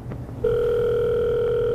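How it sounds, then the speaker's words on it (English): Cell phone ringing on an incoming call: after a brief quiet start, a loud, steady electronic ring tone begins and holds unbroken to the end. "You can see the phone's ringing."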